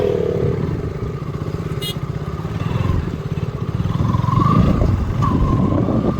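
Several KTM motorcycles ride past on a road, a steady buzzing engine drone that swells louder as the bikes draw closer. A rattling burst cuts in briefly partway through.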